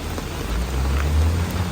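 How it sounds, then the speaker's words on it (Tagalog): Heavy typhoon rain pours down in a dense, steady hiss with a low rumble underneath, close and loud for a brief moment, in Taiwan. "ang lakas po dito ng ulan, medyo malakas din po yung hangin"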